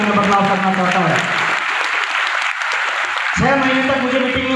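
Loud applause from a seminar audience filling a hall in Sultanpur, the clapping swelling and then thinning out before a voice speaks over the tail end.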